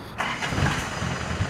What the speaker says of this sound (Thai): อ้าวสตาร์ทเครื่องเลย